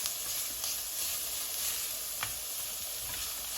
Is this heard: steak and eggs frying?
yes